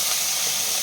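Cut potato, cauliflower, beans and carrot fry for a mixed bhaja, giving a brief, steady, loud hiss of sizzling oil with no other sounds.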